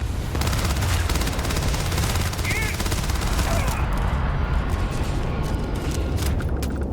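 Rapid automatic gunfire emptying a full magazine in the space shooter game Starfield, a dense continuous burst of shots over loud game noise.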